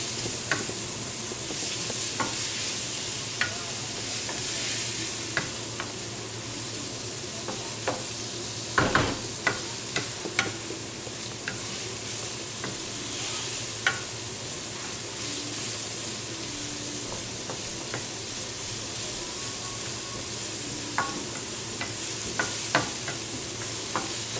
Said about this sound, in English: Mix it once in a while to make sure that it cooks evenly.